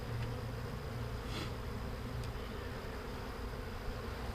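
Honeybees hum in a continuous, dense drone during an open hive inspection, a steady close buzz with individual bees passing near, faint overall and without speech.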